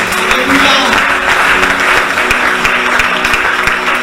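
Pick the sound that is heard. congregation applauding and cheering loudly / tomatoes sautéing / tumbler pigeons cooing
congregation applauding and cheering loudly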